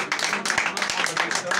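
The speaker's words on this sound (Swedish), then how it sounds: "Ska vi ge en applåd?" An audience at a live blues jam in Stockholm claps, producing a brief, dense patter of applause close by, with voices mixed in.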